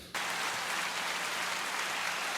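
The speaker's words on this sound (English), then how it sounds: "Round of applause, man" Applause from a podcast crowd sweeps in abruptly and holds as a dense, steady wash of clapping, fairly loud and without speech.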